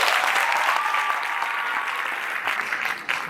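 An audience at a school inter-house speech competition claps steadily and loudly for a few seconds after a speaker, with the applause fading slightly toward the end.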